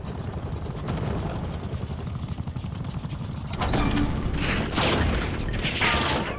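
A chopper gunner helicopter in a first-person shooter video game drones steadily with a low rotor rumble, and bursts of gunfire and explosions erupt over it in the second half.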